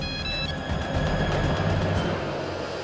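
A telephone rings in a Hindi television drama scene, a steady repeating electronic ring over a dense, loud music-and-effects bed with no talk.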